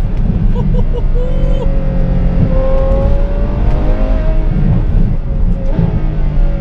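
A Ferrari F12 Berlinetta fitted with an iPE exhaust system runs loud and close, its engine holding a sustained, steady roar with a rising tone, and no talk over it.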